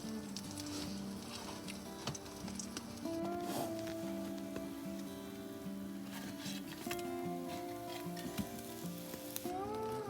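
Bacon and eggs fry on a stove inside a hot tent during a winter backcountry camping trip, with a soft, steady crackling sizzle and faint occasional clinks.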